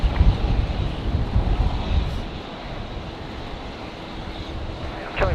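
Strong wind at Brisbane Airport, blowing around 25 knots, buffets the microphone with a loud, gusty rumble that swells at the start and end, with faint aircraft noise underneath and no talk.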